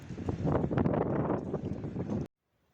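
Strong storm wind buffets an outdoor microphone in Brașov, Transylvania, a loud, steady roar with gusty surges that cuts off abruptly into silence.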